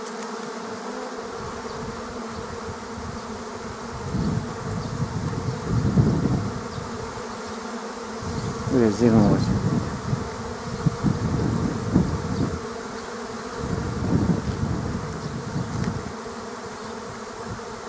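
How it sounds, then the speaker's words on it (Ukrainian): A swarm of honey bees gathered near an apiary drones in a continuous buzzing hum, swelling and fading in waves over nearly eighteen seconds, with a brief spoken remark partway through. "Хороший рій."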